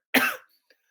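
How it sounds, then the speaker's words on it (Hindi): A single short, sharp cough from a man with a sore throat, close and dry, followed by a tiny faint sound and silence. "थ्रोट मेरा खराब है, हो सकता है बहुत बार खांसी है"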